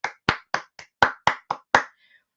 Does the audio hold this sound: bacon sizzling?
no